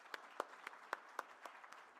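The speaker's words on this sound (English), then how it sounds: "another round of applause to the expert panelists" Sparse, faint applause from a small audience at an interfaith forum session, a handful of separate claps spaced unevenly over a couple of seconds.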